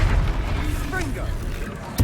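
The Confringo explosive spell in Hogwarts Legacy: loud rumbling booms fill the moment, with a voice briefly heard and a sharp blast near the end.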